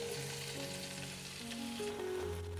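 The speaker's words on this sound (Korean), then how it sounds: "냄비에 참기름 4큰술, 식용유 2큰술을 넣고 대파를 넣어서 볶아주시면 됩니다." Green onions frying in sesame oil and cooking oil in a pot give a continuous close sizzle with faint stirring, steady throughout and free of speech.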